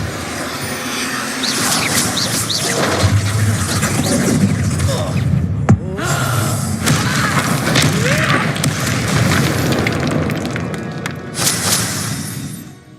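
A Depulso spell is cast in Hogwarts Legacy, a sharp burst of force rising out of a loud, busy bed of continuous game effects and music.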